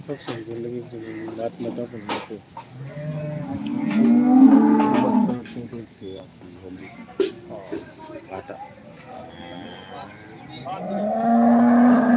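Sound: cows mooing at a dairy farm

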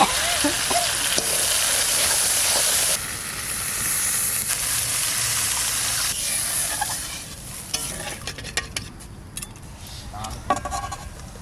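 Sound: water added to fried spice masala, sizzling

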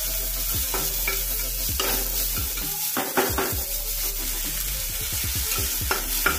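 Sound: onions frying and being stirred in a pan

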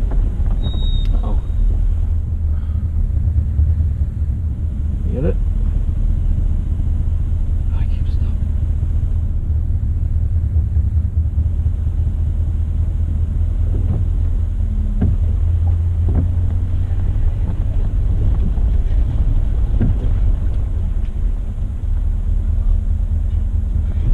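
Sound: off-road vehicle engine throttling

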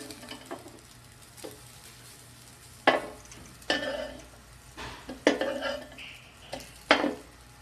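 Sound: flipping a homemade burger patty in a pan

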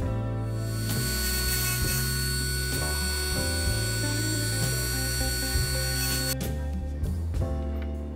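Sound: die grinder grinding metal

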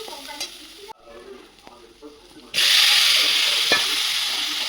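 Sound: young jackfruit added to hot oil and fried

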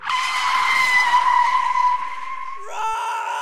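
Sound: taxi braking suddenly

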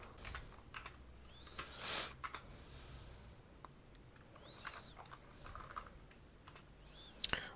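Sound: typing the model name on a computer keyboard

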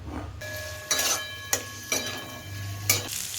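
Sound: chopped onion frying in oil in a kadhai

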